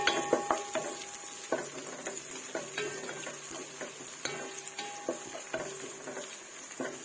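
Chili, ginger and garlic stirred in a pan for a squid dish, with a soft sizzle under repeated scraping and tapping of a utensil against the pan in an even rhythm, without speech.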